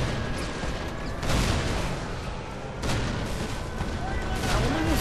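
A Spanish villa in Mercenaries 2 is blown apart by repeated explosions and artillery-like booms, loud rumbling blasts arriving in waves over a dense, continuous wash of destruction noise.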